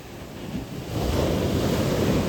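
Sea surf rolls and crashes on a beach during a turtle hatchling release festival, a loud continuous roar that swells after the first second, with wind buffeting the microphone.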